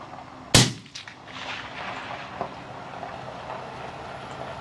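A single sharp crack of a Uintah Precision UPR-15 .223 rifle fired at a boar 400 yards away near a red dirt berm, followed by a fading echo and faint outdoor noise.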